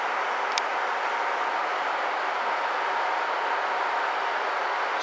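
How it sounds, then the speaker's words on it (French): A Kiha local diesel train rumbles steadily at Takayama station, a line terminus in Japan, as an even, close drone with no voices over it. "Quelques trains locaux."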